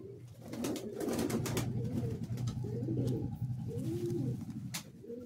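In a loft, Madrasi high-flying pigeons keep up dense, overlapping cooing, with repeated swelling, rolling phrases close by and no break in the chorus.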